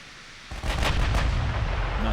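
Naval artillery fire in the naval warfare video game Ultimate Admiral: Dreadnoughts hits after a quiet half second as a heavy, booming blast that rolls on into a deep, sustained rumble.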